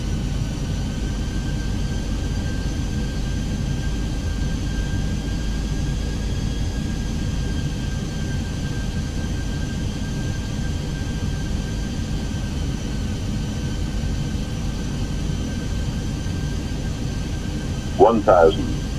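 An Airbus A320 on an ILS approach in Microsoft Flight Simulator 2020, a steady, even engine and airflow drone holding constant throughout, with a faint tonal whine and a brief click near the end.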